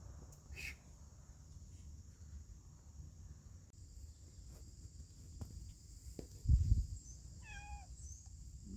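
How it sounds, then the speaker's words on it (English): A cat gives a short, rising meow near the end, on a farm yard cluttered with wind-storm debris. It sits over a steady bed of crickets and insects, with a low rumble and a brief thump before it. "Another cat enjoying the new playground that we provided for them"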